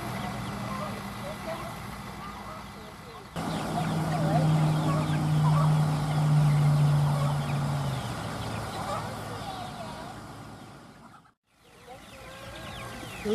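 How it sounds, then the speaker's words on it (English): A large, resplendent turkey gobbles among other fowl, with a sustained low gobbling burst in the middle over a busy outdoor background of bird calls, ending in a brief dropout. "That is one resplendent turkey."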